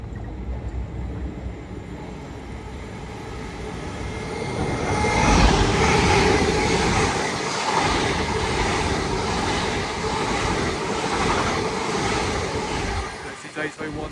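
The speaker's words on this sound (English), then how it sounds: "passing through now is 801204 R Planet en route from Edinburgh Waverley to London King's Cross." Class 801 train 801204 passes through Alexandra Palace on the East Coast Main Line, a rushing rail roar that swells around the middle and stays loud before easing near the end, with a voice talking over it.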